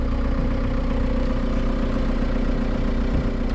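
The diesel TDI engine of a junkyard Volkswagen MK4 wagon idling, a steady loud low rumble with a fast, even clatter, close by and uninterrupted, no voices.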